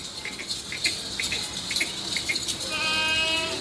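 Makhi Cheeni goats bleat at a goat farm in Haroonabad, giving a few short, moderately distant calls over steady background noise.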